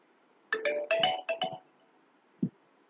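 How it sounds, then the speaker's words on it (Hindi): Phone notification tone on a handset right after an online university registration form is submitted: a short bright multi-note chime of several quick pulses, clear and alone, followed by a single soft low tap. "एक मैसेज भी आ गया मेरे को"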